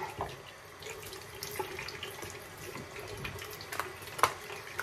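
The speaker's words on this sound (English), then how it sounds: "time for a little rinse here" Tap water runs steadily into a sink for a rinse during a shave, a continuous close wash of water with occasional small splashes and clinks.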